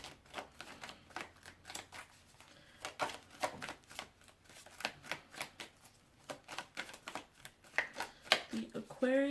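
Tarot cards are shuffled in quick bursts of crisp riffling clicks, close and fairly quiet, repeating throughout with faint talking in places.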